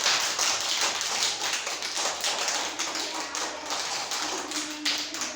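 Hands clapping during a handkerchief-stealing game, rapid continuous claps from several people in a dense, steady rhythm, fairly loud and close with no talk over them.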